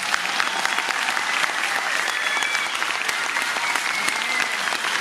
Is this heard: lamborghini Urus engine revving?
no